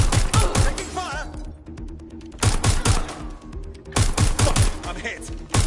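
Gunfire in Watch Dogs Legion, with rapid automatic bursts rattling loud and close in three clustered volleys and sparser shots between them, while voices call out over the shooting.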